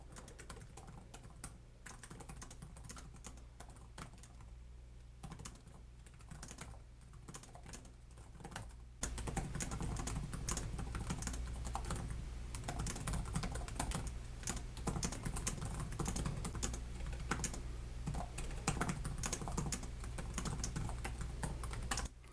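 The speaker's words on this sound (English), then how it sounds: "We'll do a quick typing test." Typing test on the low-profile keyboard of an HP EliteBook Ultra G1i 14-inch laptop: rapid, continuous soft key clicks close by, quieter at first and then denser and louder for the rest of the run, with no talking.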